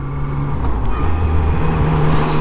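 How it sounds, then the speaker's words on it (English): A 2019 Yamaha MT-09 motorcycle engine braking on a test ride, a steady loud engine drone with a low hum that shifts pitch as the bike slows, with no speech. "The engine braking on this is quite nice as well."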